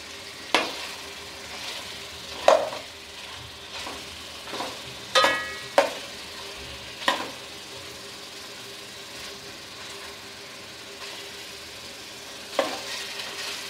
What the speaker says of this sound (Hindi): ये देखिए मैंने इसमें साबुत धनिया डाल के उसको भी मिक्स कर दिया है